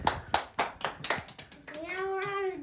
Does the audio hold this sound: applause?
yes